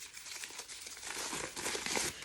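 A sheet of paper is crumpled up close, giving continuous crackling and crinkling that grows denser and louder toward the end, with no talking.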